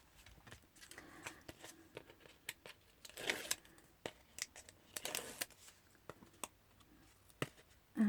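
Scissors snipping through craft card during a rose quartz card-making project, a series of short, quiet crisp cuts with small rustles and handling noises between them, close by and with no talking.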